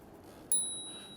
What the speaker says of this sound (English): ring this bell more often when I'm coming behind people